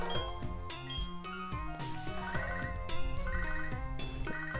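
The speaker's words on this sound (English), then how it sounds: "now the phone's ringing." A chiptune phone ring in a Pokemon game plays as fast repeating electronic beeps over the game's background music, steady and clear, with no speech.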